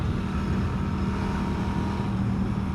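A Norton Commando 961 CR with a 270-degree parallel twin engine runs with a loud, steady low rumble that stays close and constant throughout, with no voices.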